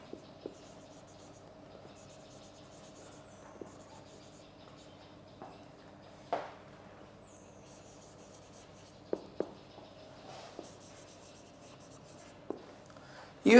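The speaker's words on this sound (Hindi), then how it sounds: "मैं लिख रहा हूं" A teacher writes on a classroom board during an English lecture, producing sparse faint scratches and taps with longer quiet stretches in between, over a low steady room hum.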